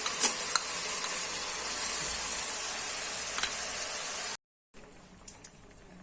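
Tomato paste and a spiced yogurt mix sizzle steadily in a hot pan while being stirred, a dense frying hiss with a few soft clicks of the spoon, cut by a brief pause before resuming more quietly.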